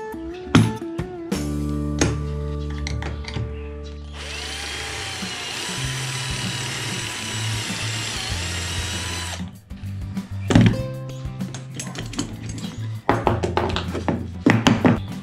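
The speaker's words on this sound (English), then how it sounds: "mag-drill tayo ng pocket holes" A power drill whirs steadily into pallet wood, drilling pocket holes for several seconds, framed by taps, clunks and handling noises before and after, over background music.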